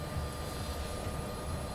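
A steady, loud engine roar of an airplane about to take off in the video game Modern Warfare, a continuous broadband drone with no speech.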